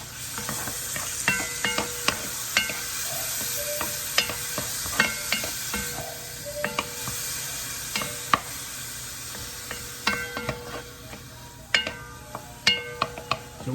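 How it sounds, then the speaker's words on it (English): Onions sautéing in rendered bacon fat in a pan for Texas chili, a constant close sizzle punctuated by repeated scraping stirs and light clinks of the utensil, steady and moderately loud, no speech. "We'll saute our onions down for a bit."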